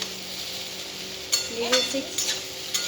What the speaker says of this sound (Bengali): চিনি দেওয়ার পর 2 থেকে 3 বার লেড়ে নেবো।